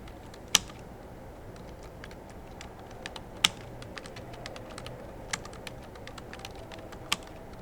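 Code being typed on a computer keyboard, a steady run of quiet, light key clicks with a few louder sharp taps standing out, close and alone in a calm room.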